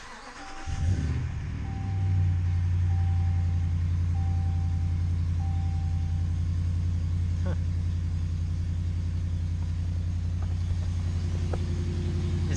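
A pickup truck engine idling steadily after its mechanical cooling fan was removed, a deep even rumble starting up and holding close and constant, with a faint intermittent tone above and a couple of light clicks.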